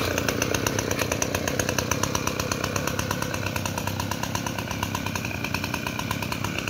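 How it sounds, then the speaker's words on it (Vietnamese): A Mitsubishi T200 earth auger's small two-stroke engine runs steadily at high revs, a loud, close, continuous buzzing drone with rapid rhythmic pulsing and no talk. "Cái máy khoan hố á"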